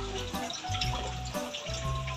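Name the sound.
adding water to mussels in cooking pot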